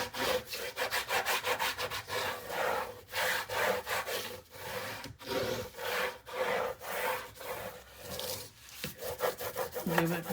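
A burnishing tool is rubbed firmly over paper while building a Graphic 45 nine-by-nine mini album, making quick rhythmic scraping strokes, close and repeated in bursts, with no voices.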